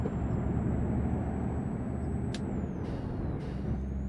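Sharp hiss of air brakes releasing on a truck in the Promods truck-driving game, over a constant engine drone, followed by fainter sighs of air.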